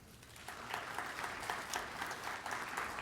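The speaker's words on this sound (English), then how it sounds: "The audience may now applaud." Audience applause at a candidate forum for California State Assembly and US Congressional District 1 races, a steady wash of many hands clapping, moderately distant and even throughout with no talking.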